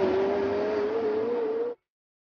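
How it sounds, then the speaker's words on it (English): A 2018 McLaren 720S supercar engine drones loud and close at a steady high pitch, holding its note before cutting off abruptly. "I think the McLaren 720S has the best McLaren sound so far."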